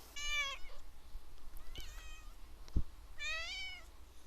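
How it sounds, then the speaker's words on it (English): A pet kitty cat meows three times indoors, clear close calls spaced a second or so apart with quiet room tone between them. "I'm sitting here with a nice glass of Cabernet and my kitty cat Miles."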